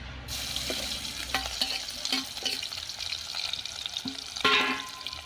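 Homemade masala frying in hot oil for a chilapi fish curry, a close, steady crackling sizzle that swells and hisses louder near the end, with a few metallic stirring knocks.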